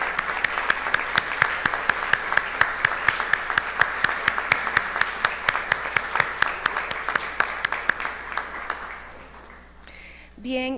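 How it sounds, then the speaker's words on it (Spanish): An audience at a Costa Rican reading event called Leer es Pura Vida breaks into strong applause, crisp rhythmic clapping that holds steady and then fades out, with a brief burst of other sound at the very end. "Un fuerte aplauso, les agradecemos mucho su iniciativa."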